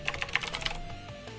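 Fingers clatter on an old DOS computer keyboard in a quick burst of crisp, close keystrokes. The clicks then thin out and fade into a quiet room hum.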